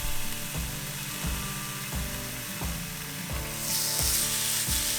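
Beef shank and chuck roast pieces browning in a Ninja Foodi give a continuous sizzle, with repeated clicking or scraping knocks at roughly regular intervals and a brighter hiss swelling near the end.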